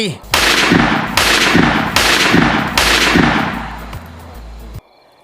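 Gunfire in a Thai audio drama: four heavy bursts of rapid automatic shots, each about a second long with brief gaps between them, loud and close, then an abrupt cutoff into near silence.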